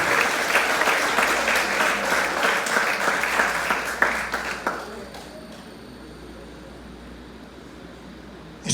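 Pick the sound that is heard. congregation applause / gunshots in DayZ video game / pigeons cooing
congregation applause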